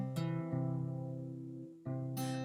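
Acoustic guitar picking pattern for a song, a few plucked notes ringing out close and clear, one sustained chord fading before a fresh pluck near the end.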